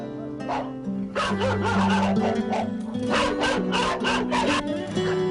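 Jindo dog puppies yip and whimper in high, overlapping cries on a cold winter evening under a heat lamp, loud and close, with a steady low hum running underneath.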